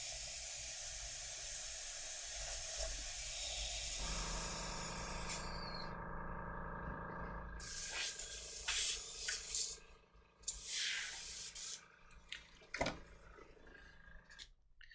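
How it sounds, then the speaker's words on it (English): An airbrush being cleaned gives a long, steady spraying hiss, then several short bursts of air and sputtering close by. "clean my airbrush"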